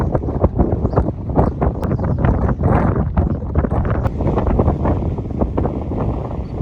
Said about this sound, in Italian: C'è un vento della Madonna.